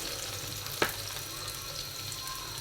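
Garlic and dried red chilies stir-frying in oil for a winter tomato chutney, a soft, steady sizzle with one sharp utensil tap against the pan.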